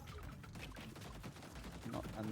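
Flat cannon fire from the video game TerraTech Legion, a faint, rapid volley of repeated shots rattling under game noise and low-level sounds.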